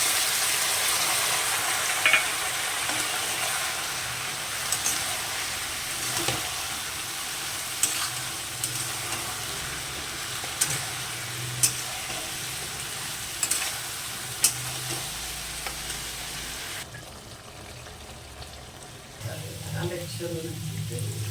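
Spices for a katla fish curry fry in a pan, a continuous close sizzle with a few sharp pops and clinks, briefly interrupted near the end by a lower, different sound.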